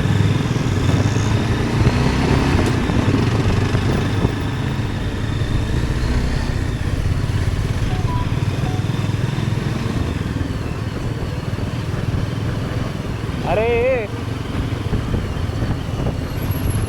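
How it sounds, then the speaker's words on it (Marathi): Steady engine drone of motorbikes cruising at low speed in Matheran after the first monsoon rain, continuous and fairly loud, with a brief rising tone near the end. "आम्ही शक्यतो स्लोच बाईक चालवतोय"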